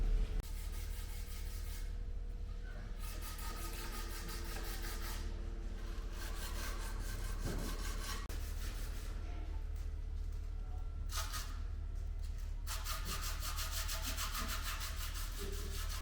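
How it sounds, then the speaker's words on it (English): Welded steel body panels on an Aston Martin DB6 front end being sanded: a continuous close abrasive rasping and rubbing with slight changes in pressure, steady throughout and without talk. "You can see I've actually started making an effort at getting this sanded down."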